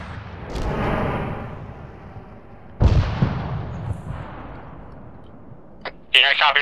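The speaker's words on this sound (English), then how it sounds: "there's a BMP on the ridgeline bearing 193, 400 meters, is firing down on friendlies" An armored vehicle's gun fire in the military game ArmA 3, heavy booming shots with long echoing tails, one near the start and another sharp blast mid-clip, with radio-style voices over it.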